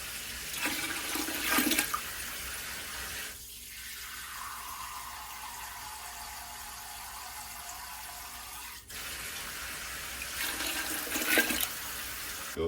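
Tap water runs steadily into a soup pot for a chicken noodle soup, a smooth continuous pour lasting several seconds, close and fairly loud, alone without talk, framed by brief clattering before and after.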